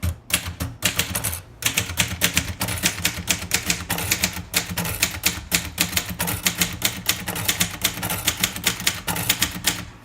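Rapid typing on a 1956 Royal Quiet De Luxe manual typewriter with Elite typeface, dense clattering keystrokes in an irregular fast rhythm with brief pauses, close and clear, no voices.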